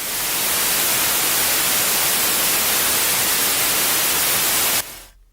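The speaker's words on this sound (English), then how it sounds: "Now, in this track, we have a test tone of white noise," Steady broadband white noise test tone, loud and uniform for nearly five seconds, then cutting off abruptly into near silence.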